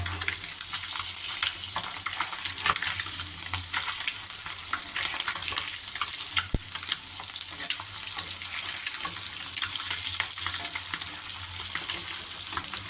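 Viral (murrel) fish and curry leaves frying in hot oil, a steady close sizzle and crackle with light stirring throughout and no voices.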